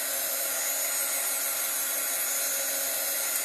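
A heat tool blows a steady, loud, unbroken whoosh of hot air over chalk paste on a Chalk Couture transfer, continuing evenly throughout with no talking.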